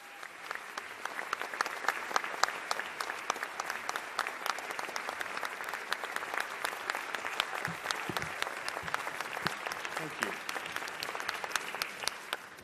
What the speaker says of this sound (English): When that happens, I look around and I think they must be applauding for someone else.